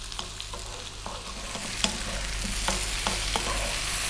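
Potatoes frying in a hot pan for a potato egg curry, with a steady sizzle and occasional sharp scrapes and clinks of a spoon stirring, close and alone without speech.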